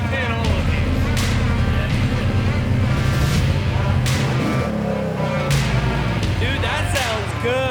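A mini Jeep's small engine fires up and keeps running, a throaty near rumble broken by sharp cracks and pops, with people talking over it.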